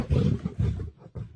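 A lion roars in two or three deep, heavy bursts with short gaps between them, close and loud, with nothing else heard.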